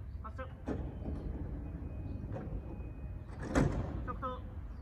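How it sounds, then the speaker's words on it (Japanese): Train doors sliding closed on a JR commuter train at Honda Station on the Sotobō Line, a soft mechanical rush and thump amid platform ambience and announcements. "ドアが閉まります。"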